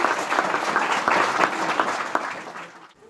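A church congregation at Maranatha Church in Pokhara claps hands together in a brisk, busy burst of many hands, loud and sustained before tapering off abruptly near the end.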